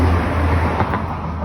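Road traffic rolls past on a street during a neighborhood walk, a steady low rumble of cars with a slight swell near the middle, moderately close and continuous.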